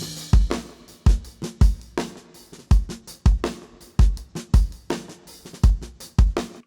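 Drum overhead recording run flat through a Rockruepel COMP.TWO compressor with the sidechain engaged: loud kick and snare hits land in a steady, punchy groove with cymbal wash between, about a dozen strong hits alone with no voices.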